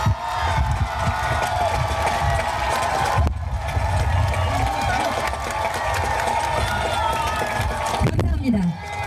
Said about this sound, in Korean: 다시 한번 대한민국 제21대 대통령 선거에 출마 선언을 한 한동훈 전 국민의힘 당대표에게 큰 박수를 보내주시기 바랍니다